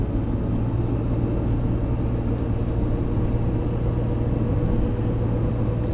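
A car cruising through British Properties streets at night, with a steady low engine and road rumble droning evenly throughout, no voices.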